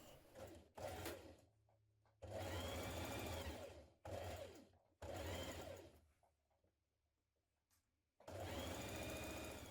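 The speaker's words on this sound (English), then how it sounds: "Then we're going to stitch all the way down the leg to the ankle" A sewing machine stitches a 1 cm seam down a jumpsuit leg to the ankle, running in several loud, steady bursts separated by brief pauses.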